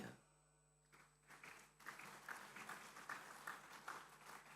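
Audience applause at an evening graduation convocation, steady dense clapping rising after a quiet start and holding strong throughout.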